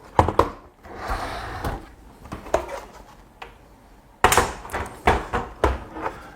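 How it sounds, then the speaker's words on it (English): An aluminum enclosure housing an ESP32-S3 relay board with Omron relays is handled and opened, producing a series of close, sharp metallic clicks, taps and knocks in irregular clusters, with a louder run of knocks toward the end. "I will open this aluminum box"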